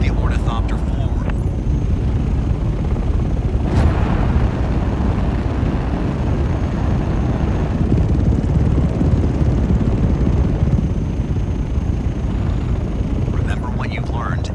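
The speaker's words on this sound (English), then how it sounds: "Increasing power generates lift, allowing the Ornithopter to rise off the ground." Atreides ornithopter engine taking off in a Dune video game, a loud, steady rumbling roar that holds throughout with faint higher whines near the start and end, under a voice speaking.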